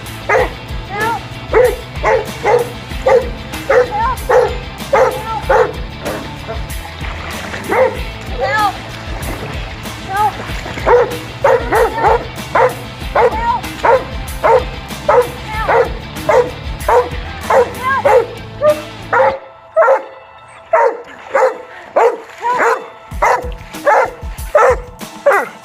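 A Doberman Pinscher barks and whimpers in repeated sharp bursts, close and loud, mixed with splashing water and a voice calling out urgently; near the end the splashing drops away and the barks continue alone.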